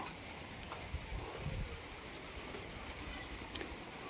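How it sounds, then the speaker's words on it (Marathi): Steady rain falls with a dense, even patter across the whole stretch, a few louder drops and low thuds standing out nearby. "आत्ता अचानक तर पाऊस आला बरं का"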